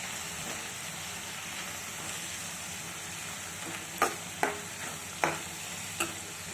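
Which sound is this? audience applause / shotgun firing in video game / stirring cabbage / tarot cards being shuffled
stirring cabbage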